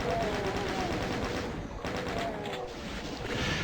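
Rapid, sustained chain gun fire from DOOM, a dense continuous rattle of shots running loud through the whole stretch with only a brief dip midway.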